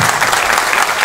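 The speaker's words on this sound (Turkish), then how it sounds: "onu kendim şu anda ona bakarak alkışlamak istiyorum" Applause from the audience at a short-film gala premiere, a dense, steady wash of many hands clapping together, loud and close for the whole moment with no voices breaking through.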